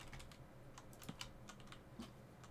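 Fast, steady computer keyboard typing during a Minecraft session, a continuous run of light clicking keystrokes at moderate level with a couple of sharper key hits standing out.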